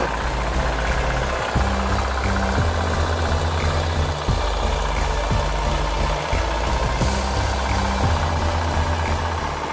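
Hand tractor engine plowing a wet rice field, a loud, close, pulsing diesel chug with rhythmic knocking whose pitch shifts as the load changes, running continuously without speech.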